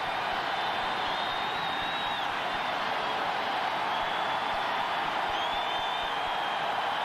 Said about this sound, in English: Crowd noise making it tough for Esiason